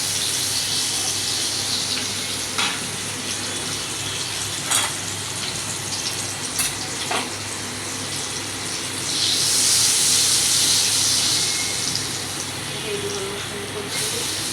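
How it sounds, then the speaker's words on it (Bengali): Garlic mushrooms frying in oil and butter in a pan, a steady close sizzle with occasional stirring clinks and a louder hissing surge partway through, with faint talk in the background. "গার্লিক মাশরুম জন্য আগে অয়েল দিয়ে তারপর বাটার দিয়েছে।"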